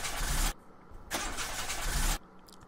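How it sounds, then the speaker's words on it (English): Video game car engine repeatedly cranks and sputters without catching, two long whirring start attempts separated by a brief pause, loud and close. "I'll try the engine."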